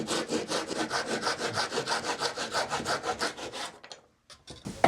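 A handsaw cuts through a piece of wood at a 45-degree angle in a small workshop, with fast, even rasping strokes in a steady rhythm for about four seconds before stopping, followed by a few faint knocks.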